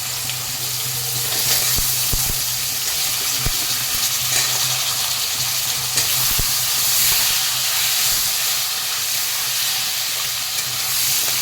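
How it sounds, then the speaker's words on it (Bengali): Potatoes cut into long strips fry in oil with cumin seeds and bay leaf in a pan, giving a steady, loud, broadband sizzle throughout with a few faint clicks of a utensil and no talking. "আলুটাকে একটু ভেজে দেওয়া আগে"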